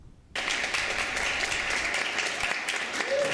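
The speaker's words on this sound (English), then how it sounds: "Sounds of applause and cheers" At a university leadership award ceremony in a hall of fame room, a crowd breaks into sudden, steady applause that holds at an even level, dense and fairly close, with possible cheering mixed in.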